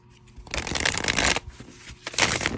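A deck of tarot cards split into two halves is riffle-shuffled in two quick bursts, a crisp fluttering close to the listener with a brief pause between them.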